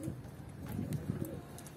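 Pigeons in a coop give soft, low cooing, steady and close, with faint scattered bird calls and a little talk mixed in.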